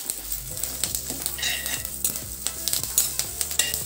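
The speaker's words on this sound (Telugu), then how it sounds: "ఎండుమిరపకాయలకి జతలోనే కరివేపాకు వేస్తున్నానండి. కరివేపాకు వేసి బాగా క్రిస్పీ అయ్యే వరకు వేయించుకోవాలండి." Curry leaves and dried red chillies crackling in hot oil, a close, busy sizzle with quick spitting pops and light stirring, background music tones running underneath, nobody speaking.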